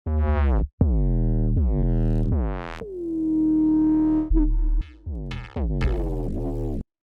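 A synthesized bass arrangement built in Ableton plays alone: a run of loud, punchy, pitched bass notes with gliding pitch and short gaps, holding one long sustained tone near the middle.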